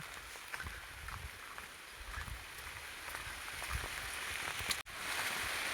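Steady rain falling near Shanmuganadhi Dam in the hills, a dense even hiss with scattered drop impacts throughout and a brief dropout just before the end.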